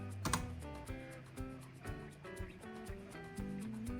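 Keys clack as a command is typed on a computer keyboard while repairing a PC, a quiet series of separate keystrokes at an uneven pace, with no talking.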